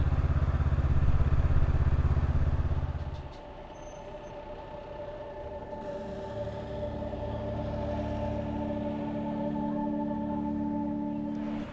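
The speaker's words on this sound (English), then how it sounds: "Let's just find a place to park a motorbike." A motorbike engine rumbles loudly near Wat Phra That Doi Suthep in Chiang Mai, then drops to a lower idle with a steady hum as it slows to park.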